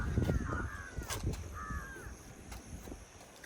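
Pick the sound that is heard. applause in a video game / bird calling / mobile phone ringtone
bird calling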